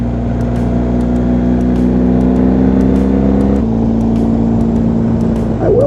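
A 2019 BMW R1250 GSA motorcycle on Dunlop Trailmax Mission tires rolls gently through sharp corners, its engine a steady loud drone with wind rush, the pitch shifting down once partway through.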